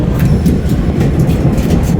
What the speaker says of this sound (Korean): 열차 용산역을 8시 31분 출발해서